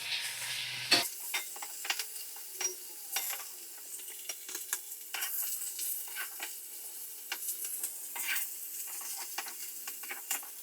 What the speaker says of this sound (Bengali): দেখো ফুলকপি আর ব্রোকলি ভাজা ভাজা হয়ে গেছে।